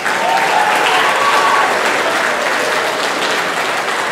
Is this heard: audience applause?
yes